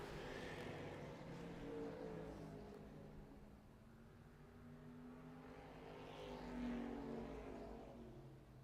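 In Need for Speed ProStreet, a car engine runs a dyno test and revs steadily, its loud drone swelling and easing with no speech over it.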